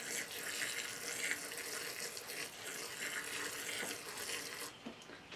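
Water pours and splashes steadily while plants are watered inside a greenhouse, a soft continuous trickling and spattering at moderate distance that tails off near the end, with no talk.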